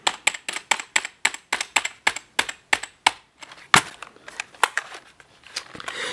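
Loud, clicky keys of a cheap Chon Chow RGB gaming keyboard typed in a fast, even rhythm of sharp clacks up close, then a burst of quicker, irregular keystrokes with no talking.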